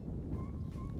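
Sea breeze at Bamburi Beach buffets the microphone, giving a low, rumbling wind roar that stays steady and fairly quiet through the brief moment.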